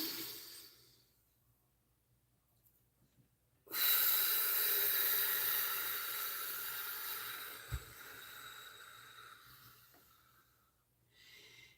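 Slow, deep breathing during a guided meditation on a live stream: one long, steady breath of several seconds that rises out of near silence and then fades gradually, quiet and close.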